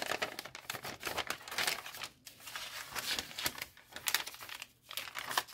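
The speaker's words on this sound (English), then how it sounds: "And again, I'm folding backwards." Paper being folded backwards while making a junk-journal envelope, giving close, dry crinkling and crumpling in uneven bursts with a couple of brief pauses.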